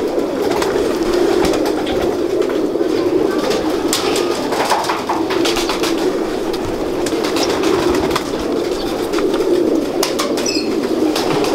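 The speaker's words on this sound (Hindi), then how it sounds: "फिरोजपुरी कबूतरों का शौक करते हैं इनके।" Ferozpuri pigeons coo and flap their wings in a loft, a dense continuous murmur of cooing with scattered wingbeat bursts, loud and close throughout.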